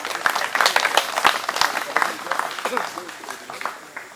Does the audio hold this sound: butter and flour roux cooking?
no